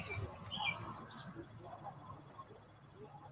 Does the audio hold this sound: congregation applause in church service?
no